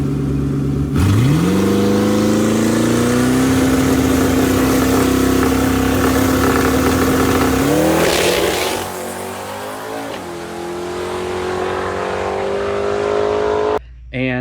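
A boosted 800 HP Gen 1 Coyote Mustang V8 with a TH400 transmission fires up and is held at a high, steady rev before rising further and then settling into a rough, loud idle, recorded up close.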